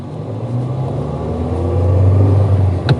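Engine of a 2005 Toyota Vios G sedan with manual transmission, heard from inside the cabin as a steady low rumble that rises slightly in pitch and loudness as it revs, with no talking.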